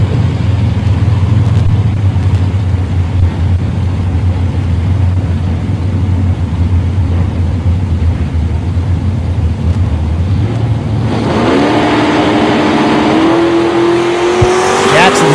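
Drag racing at Woodburn, Oregon, with a Monza and a Motion Vega: a loud, steady engine roar holds for about eleven seconds, then gives way to a rising whine as the cars launch and pull away, with a faint announcer voice underneath.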